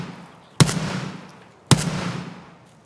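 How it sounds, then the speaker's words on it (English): Two sharp gunshots ring out in a video game about a second apart, each a hard crack with a reverberant tail that fades slowly, heard alone without voices. "I hear you taking shots."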